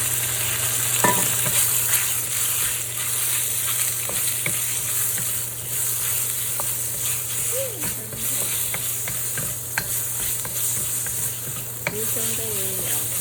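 Pork slices stir-fry with lotus root in a wok, giving a steady hiss and sizzle with occasional scrapes and clinks of the spatula throughout.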